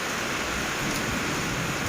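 Steady rain pours down around an elephant playing in the wet outdoors, a continuous broadband hiss with no distinct drops, even and close throughout.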